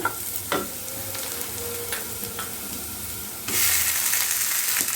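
Boiled potatoes fry with onion and spinach masala in a pan, giving a steady sizzle broken by a few scraping stirs, then a louder burst of hissing near the end, with no voices.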